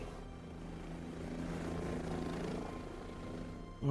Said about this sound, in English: Our chopper has arrived.